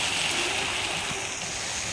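Flowing stream water makes a steady, moderately loud rushing hiss that continues without a break for the whole stretch, with no voices.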